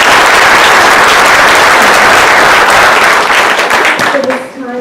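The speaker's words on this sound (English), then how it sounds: "let's give her a big round of applause" Loud, dense audience applause at a Women's History Month event in Monterey County, many hands clapping close and sustained, fading near the end as a voice begins speaking.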